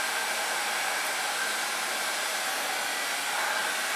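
A handheld hair dryer blows steadily while drying hair at the roots, a continuous close, even whooshing roar that holds without a break for the whole stretch and no voices over it.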